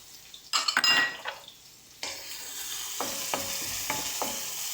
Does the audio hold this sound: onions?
yes